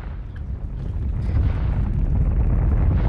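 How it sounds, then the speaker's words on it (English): A reactor explodes in a video game with a deep, rumbling roar that builds steadily in loudness and holds as a continuous heavy low-frequency blast. "I wanna watch the boom"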